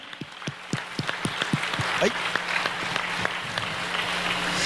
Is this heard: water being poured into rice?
no